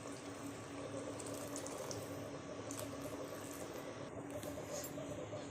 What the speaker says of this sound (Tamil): இந்த டைமில் நம்ம தண்ணி சுட வச்ச தண்ணியை நம்ம இதில் ஊற்றிக்கலாம்